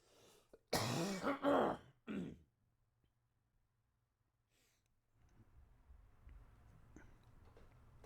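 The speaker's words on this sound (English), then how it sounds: "I have to cough." A single harsh cough with some throat clearing, close and loud, followed by quiet room noise with faint ticking.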